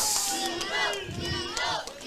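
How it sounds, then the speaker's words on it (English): Wrestling fans at a lucha libre pro wrestling event scream and yell in a short, loud burst of crowd noise, with overlapping shrill voices rising and falling over about two seconds. "Fans screaming for Beetle."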